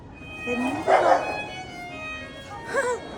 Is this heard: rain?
no